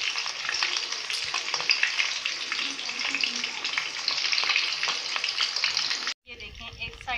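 Three chapli kababs fry in a pan of hot oil with a dense, steady sizzle and crackle. The sound is close and runs for about six seconds before a sudden break, then resumes more softly.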